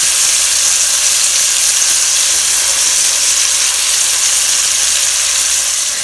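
Pork cooking in a pan for pork with mushrooms and brie sauce, a loud continuous sizzle and hiss that stays even throughout, close up, with no voices.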